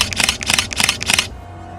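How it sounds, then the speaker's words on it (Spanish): Four sharp mechanical clicks in quick succession from a camera's shutter firing as it takes four black-and-white photographs, close and crisp, then silence. "Los disparos del obturador sucedieron y 4 fotografías en blanco y negro quedaron como prueba del suceso."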